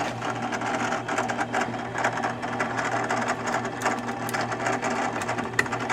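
A drill press bores 1 inch holes, its motor giving a loud, continuous mechanical drone with a fast, busy rattle that holds steady throughout.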